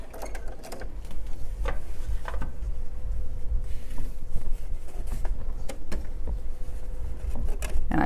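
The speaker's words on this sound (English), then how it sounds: "I use my walking foot just because it makes the fabric go through easier because it feeds top and bottom." Sewing machine fitted with a walking foot sewing a lock stitch on a fabric popcorn bag, a soft low mechanical hum with scattered clicks and taps, close but fairly quiet.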